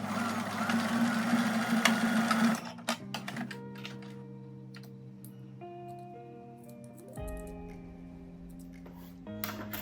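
A sewing machine works a zigzag stitch on a blouse, humming steadily for a few seconds before giving way to quieter ticks, clicks and a low tonal hum from the machine.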